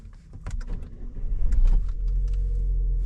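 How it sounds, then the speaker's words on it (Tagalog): A Jetour X70 with its engine warning light on starts up after a few clicks and shuffling sounds near the car, then settles into a steady, low idle rumble. "umandar yung sasakyan mga kadiskarte"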